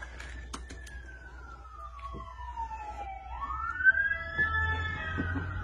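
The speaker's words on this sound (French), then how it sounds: "Il y a les ambulances qui vont passer." An ambulance siren in the US wails past, a single long tone sweeping down then rising again, a few sharp clicks early on, moderately distant and clear over quiet background.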